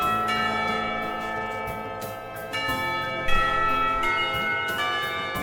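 A school bell rings in the Katawa Shoujo visual novel, a sustained metallic chime with repeated strikes every couple of seconds and long ringing tones, loud and alone without any voices.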